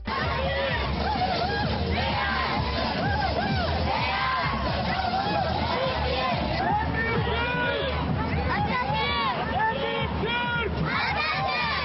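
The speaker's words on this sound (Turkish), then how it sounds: "Çocuklar gururla caddelerde gezip Türkiye diye bağırırken" Children shout "Türkiye" while marching through the streets at a Turkish march in the USA, a loud rhythmic chant rising from a large crowd with cheering and babble throughout.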